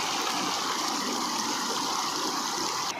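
Flooded river in a Konkan village rushing past, a loud, dense and continuous roar of gushing water close by.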